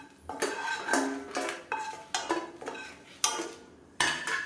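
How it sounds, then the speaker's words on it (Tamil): A utensil clinks and scrapes against a pan as dried red chillies fry in oil for a small-onion chutney, with sharp metallic knocks arriving in irregular bursts, fairly close and clear, and no voices. "இப்போ வரமிளகாய் நல்லா வறுபட்டு வச்சு எடுத்துடலாம்."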